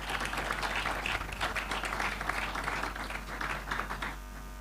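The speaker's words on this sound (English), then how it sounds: "A big clap for them, please." Audience claps for the speakers at a youth forum on Africa's future, a moderate, steady patter of many hands over a low electrical hum, tapering off near the end.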